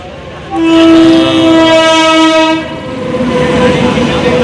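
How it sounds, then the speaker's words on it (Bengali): A train horn blares loudly and steadily for about two seconds as a train rushes past, followed by the rumble of cars rolling by. "দেখো একটা ট্রেন আসছে মনে হয় নতুন, এক্সপ্রেস ট্রেন।"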